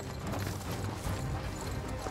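Horses ridden at a quickened pace through a desert wash produce steady, close clip-clop hoofbeats that carry on throughout without talking.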